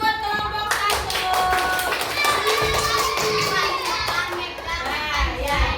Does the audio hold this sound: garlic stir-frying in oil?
no